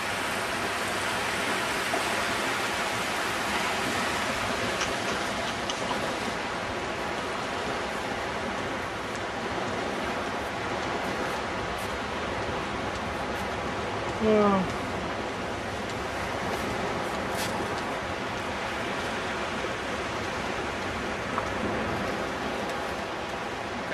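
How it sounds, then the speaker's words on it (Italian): Sea waves wash in at a beach as a continuous broad rushing surf, steady and fairly loud, with a brief faint voice partway through. "Belle le onde"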